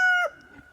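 A rooster crows once, loud and close, the held final note ending abruptly after about a quarter second, followed by quiet.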